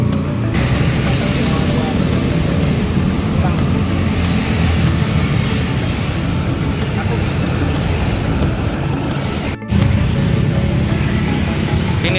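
A new Hino RM bus of the Sumber Alam line rumbles loud and close, with a constant low engine drone and roadway noise that runs almost without a break, cut by one brief drop near the end.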